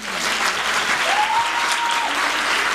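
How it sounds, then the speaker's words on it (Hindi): Loud, continuous applause from a crowd at a youth Christmas celebration in a church, dense clapping with a brief whistle-like tone near the middle, steady from start to finish. "जिनको समझ आई है वो जोरदार तालियां बजाएं"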